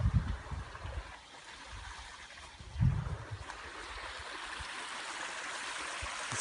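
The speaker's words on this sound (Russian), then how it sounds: "Такой мини-водопад." A small woodland stream spilling over a mini waterfall, a steady broadband rush of flowing water with a couple of brief low thumps, close and continuous throughout.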